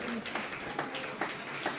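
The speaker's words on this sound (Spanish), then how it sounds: "Un aplauso a la Señora" A church congregation claps in a fairly soft, even burst, with a few sharper individual claps and faint voices mixed in.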